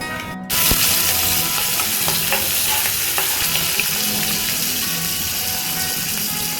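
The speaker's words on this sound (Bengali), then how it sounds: "কালো জিরা দিয়ে দিয়েছি, এবার মাছগুলো ভাজবো হালকা করে।" Hilsa fish pieces frying lightly in hot oil with nigella seeds, a dense, loud sizzle that bursts in just after a brief quiet start and holds steady, with small scrapes and crackles, no voices.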